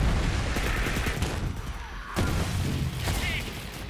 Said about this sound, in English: Rolling a grenade!